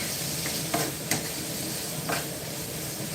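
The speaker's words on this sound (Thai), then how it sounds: "ความมันเอาออกนี่ก็ผัดแบบไม่ต้องใส่น้ำมันนะ" Boiled pork is stir-fried in a pan with no oil. A loud, steady sizzle runs throughout, broken by a few sharp spatula scrapes and stirring knocks.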